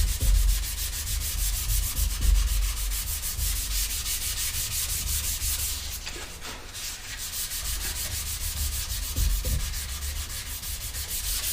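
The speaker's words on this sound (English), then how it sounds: "I'm just letting the sandpaper do the work" Sandpaper of 320 grit rubs along the wooden edges of a skateboard in steady back-and-forth strokes, a continuous close scratchy hiss with a brief pause near the middle.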